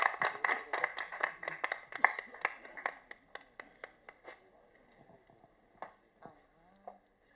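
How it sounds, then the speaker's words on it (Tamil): An audience claps at the Aroopi film audio launch: a burst of scattered, fairly close hand claps for about four seconds, then thinning to a few isolated claps. "ஒரு பலத்த கைத்தட்டலோட"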